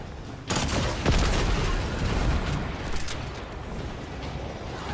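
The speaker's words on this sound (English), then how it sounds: "Rocket launcher." Rocket launcher fire in Destiny 2, a sudden loud blast followed by a second heavy burst and a long rumbling roar of explosions that slowly fades.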